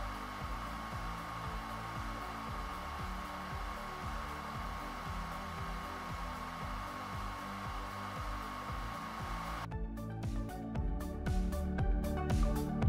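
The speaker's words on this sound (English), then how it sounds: "We can make a simple demonstration of this, using a hot air gun." A hot air gun blows a steady, loud whoosh of air while heating the lead wires of a strain gage, with a low rumbling undertone and some faint clicking late on; no one talks.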